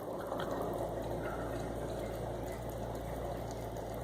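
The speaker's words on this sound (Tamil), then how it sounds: "புளி தண்ணியை ஊற்றுறேன்." Steady tamarind water pouring into a pot, a continuous splashing stream that holds even throughout, fairly quiet and close by.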